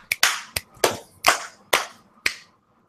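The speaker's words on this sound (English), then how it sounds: "let's get clapping and then let's get recording" A group on a radio livestream claps to sync a recording, producing about seven sharp, loud claps at uneven intervals that land out of unison before silence.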